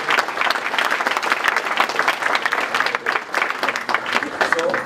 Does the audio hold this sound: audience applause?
yes